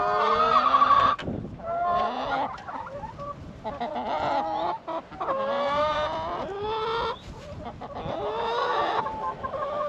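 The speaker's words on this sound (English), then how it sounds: "these are my oldest birds" Older chickens cluck and squawk in a coop, several birds calling close by in overlapping bursts that run almost continuously.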